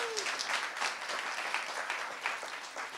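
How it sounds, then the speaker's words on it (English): Audience applause for competing teams at a creativity-in-the-age-of-AI event, steady dense clapping filling the whole stretch at moderate loudness, with no voices over it. "Let's give the first 4 teams a big round of applause"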